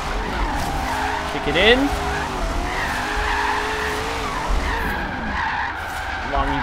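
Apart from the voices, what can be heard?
car drifting with e-brake in Forza Horizon 3 video game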